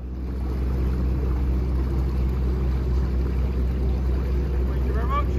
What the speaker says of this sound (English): the boat starts to come back out of the water at the back and we're slowly moving off the trailer